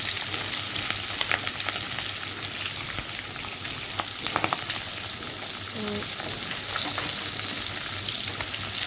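Potatoes and chopped vegetables sizzle steadily in a hot pan, a constant crackling hiss close by with occasional stirring clinks and no talking.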